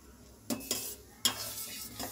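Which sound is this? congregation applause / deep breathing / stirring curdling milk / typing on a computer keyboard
stirring curdling milk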